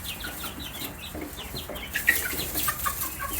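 Young chickens in a brooder cluck and peep in quick, overlapping bursts, a busy close chorus of small bird calls with no talk.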